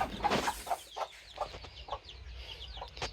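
A broody hen clucks in a coop, a series of short, close clucks repeating at an uneven rhythm with no talk.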